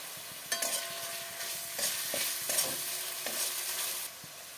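Spice paste of ginger-garlic, green chilli, tomato, salt and ground spices with a little water sizzles in a pan for fish jhal while a utensil stirs it in several scraping strokes, close and alone.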